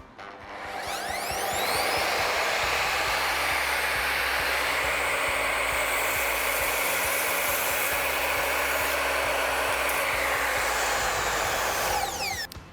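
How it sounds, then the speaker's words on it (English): An Evolution Rage 5S mitre saw making a 45-degree cut, one long, loud whirring cut with a rising spin-up and falling wind-down at either end, close with no talking. "What I'm going to do now is actually demonstrate cutting this"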